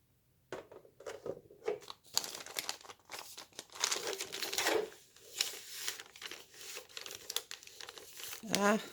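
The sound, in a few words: trimming sheets of paper for a junk journal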